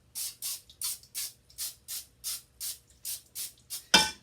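Cooking spray hisses onto a muffin tin in about a dozen short, quick bursts, evenly spaced and close by, with one louder final spritz.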